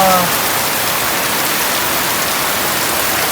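Heavy morning rain pours down onto dry ground, a loud, dense and unbroken hiss of falling water that fills the whole moment without letting up.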